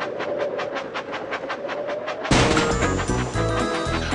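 Rapid rhythmic chugging of a toy train engine in a Thomas & Friends tapping game, then a sudden louder burst of clattering, crashing game sounds and music.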